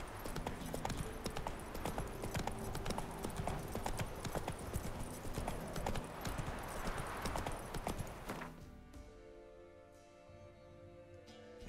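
Horse galloping in The Witcher 3, a fast steady clip-clop of hooves up close against game ambience, ending abruptly as the hoofbeats give way to quieter tonal background sound.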